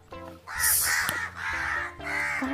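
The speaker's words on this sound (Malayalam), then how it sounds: "കാക്ക ഭയങ്കര ശല്യമാണ്." A crow in a papaya garden caws several times in harsh, close bursts, while a person speaks intermittently in between.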